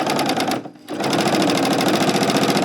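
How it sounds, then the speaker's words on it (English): A serger overlock machine runs steadily while sewing along a garment's bottom hem edge, a fast mechanical whir with one brief pause before it starts up again. "I'm now serging around the bottom edge where I'm going to be doing my hemming"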